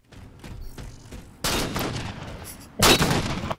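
Gunfire in Halo 4 sniping play, with faint earlier pops, then two loud, close blasts that each ring out with a long, noisy tail.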